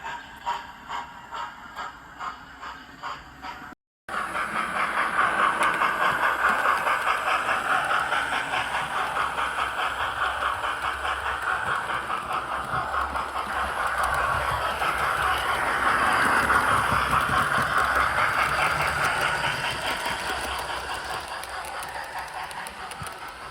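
A model railway diesel locomotive runs with carriages in tow, giving a continuous close motor hum with a rhythmic clickety-clack of wheels over rail joints, steady and fairly loud after a short break near the start.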